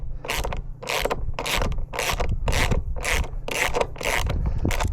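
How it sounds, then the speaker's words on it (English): A ratchet with a 1/2-inch socket backs out the bolt holding a wheel on a Ryobi 40-volt lawn mower, giving about eight evenly spaced, loud rasping clicks of the pawl close by, with no talking. "Then I'm using a 1/2-inch socket. Just unscrew the bolt that's holding it in place."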